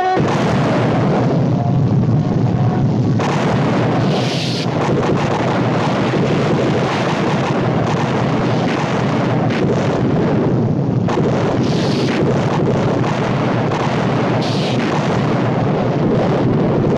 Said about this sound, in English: Loaded broadside fire!